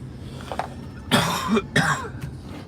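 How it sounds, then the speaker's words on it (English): Two harsh coughs close by, preceded by a faint throat sound, in a quiet room. "I've noticed that I've been like really coughing a lot in the morning."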